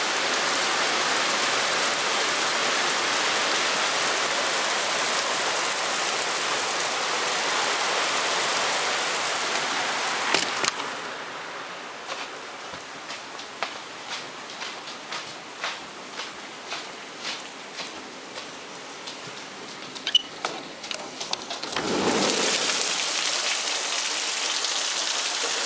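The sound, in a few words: rain falling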